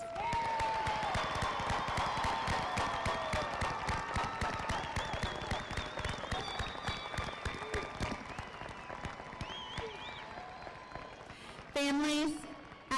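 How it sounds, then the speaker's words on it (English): A graduation crowd applauds the senior class with dense, sustained clapping and raised voices mixed in. The applause tapers slightly toward the end, where a short, sharp burst of sound cuts in. "Please give our entire senior class another round of applause."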